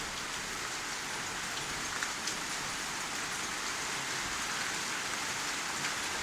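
Steady, dense rainfall pattering on a surface, a continuous hiss with scattered drop impacts, fairly close and constant throughout.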